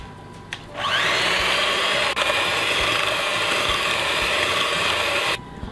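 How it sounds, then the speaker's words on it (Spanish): Electric hand mixer beating coconut cookie batter after egg and vanilla are added, a steady, close whirring drone that runs for several seconds before cutting off. "Voy a batir un ratito más."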